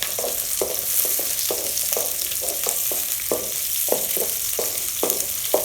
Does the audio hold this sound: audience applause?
no